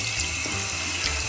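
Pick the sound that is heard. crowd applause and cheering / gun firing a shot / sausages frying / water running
water running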